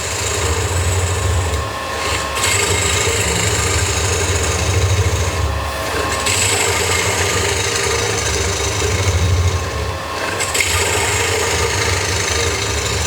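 A wood lathe spinning a large salad bowl blank while a gouge scoops in toward the centre, giving a steady, continuous motor hum with a rough cutting texture throughout and no talk.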